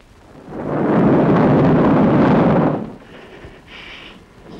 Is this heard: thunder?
yes